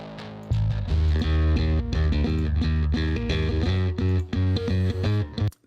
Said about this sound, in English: I'm rolling off everything below 180, so kind of like the amp track, but then I'm distorting it all the way with the red light distortion.